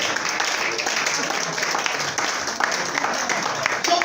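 A church congregation claps and applauds at a seminar, a dense steady wash of hand claps filling the space, with a voice speaking over it.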